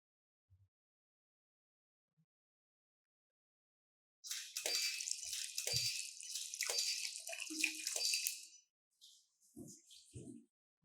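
Water splashes and pours loudly for about four seconds during a splash photography shoot, followed by a few scattered drips and small splashes, with no one talking.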